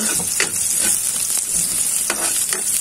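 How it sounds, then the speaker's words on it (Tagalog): Squid sautéing for adobo in a pan, a steady close sizzle broken by several soft scrapes and clinks of stirring, with no talk. "ito, ginigisa na natin."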